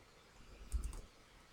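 An Alt+S shortcut typed on a computer keyboard, heard as a quick cluster of soft, close keypresses in a quiet room.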